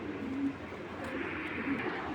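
Racing pigeons coo softly in a low, continuous murmur, close by, with a faint rumbling background and no talking.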